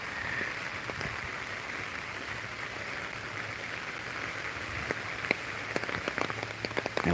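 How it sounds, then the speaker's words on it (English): Rain falling during an early Saturday morning walk outdoors, a steady close wash of drops with sharper drips and patters growing toward the end. "God has me out here walking in the rain to clear my head"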